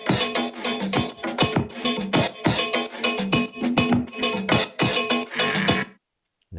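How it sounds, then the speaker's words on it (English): A percussive loop from a DJ's production, with a cowbell among the hits, plays a busy, repeating pattern of sharp strikes, close and punchy, then stops abruptly near the end. "it sounds only like a percussive loop like this"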